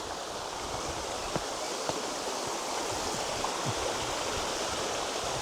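The shallow River Dove flows over stones in a steady, close hiss of running water, continuous and even throughout, with a few faint ticks and no talking.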